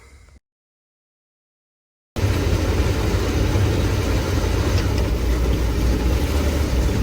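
An old van engine, from an impounded drug-runner van being turned into a camper, starts after a short silence and then runs steadily and loudly with throttle applied, a dense close rumble.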